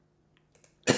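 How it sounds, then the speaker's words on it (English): A single sharp cough bursts out close to the microphone at the end, after a near-silent stretch with a few faint clicks. "I just coughed in y'all's face."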